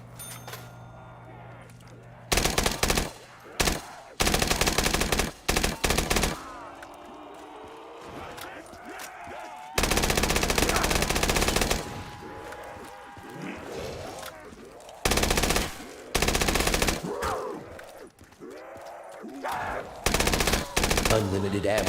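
Video game gunfire in a Call of Duty custom Zombies match, loud bursts of automatic fire in repeated volleys separated by short lulls, with a voice talking over the gameplay.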